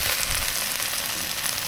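Poultry pieces sizzling on a Blackstone griddle, a close, steady hiss of frying fat with faint crackles and no talking.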